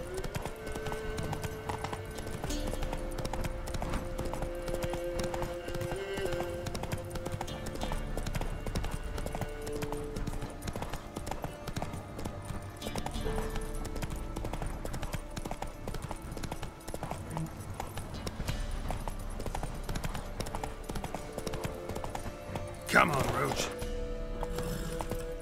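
Hooves of the horse Roach gallop steadily in The Witcher 3: Wild Hunt, a continuous clip-clop rhythm over game music, with a rider's brief shout near the end.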